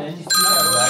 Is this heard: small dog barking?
no